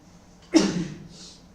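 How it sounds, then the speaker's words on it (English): A single sharp sneeze bursts out abruptly and fades quickly, close and fairly loud, with quiet room tone around it. "I know I'm suffering from sneeze."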